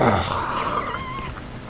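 A kitten meows in a single drawn-out, wavering cry, fairly loud and close, with no talking.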